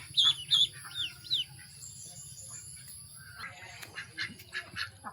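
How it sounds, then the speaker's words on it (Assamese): Ducklings give a few sharp, high peeping calls close by at the start, followed by quieter, scattered chirps and quacks from ducks amid low farmyard background noise. "এয়া চাওক কিমান মৰম লগা হাঁহ পোৱালিকেইটা দেখিছেনে"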